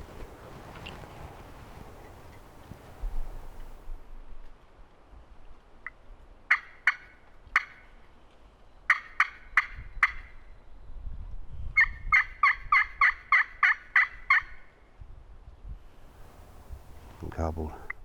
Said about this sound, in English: Gobbled.